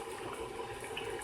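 Water pours steadily into a cooking pot for sopas, a continuous close splashing rush at moderate volume with no talking.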